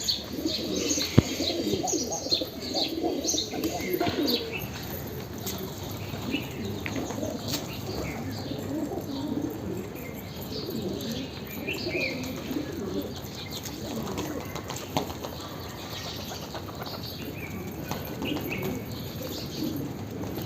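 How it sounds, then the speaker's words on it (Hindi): Wild pigeons coo repeatedly on a rooftop, their soft, low, rolling calls overlapping in a steady chorus, with occasional chirps and a brief flutter of wings close by. "खाली जंगली कबूतर ही जंगली कबूतर आ रहे हैं छत के ऊपर"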